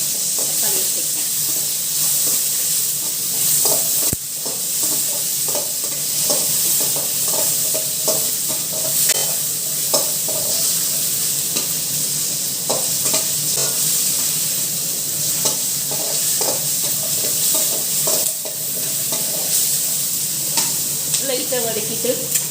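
Chopped onion and tomato fry in a pan for Tamil mint chutney and are stirred continuously. A steady close sizzle runs under repeated scraping strokes of a spoon against the pan.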